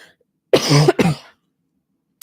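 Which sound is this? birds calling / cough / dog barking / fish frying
cough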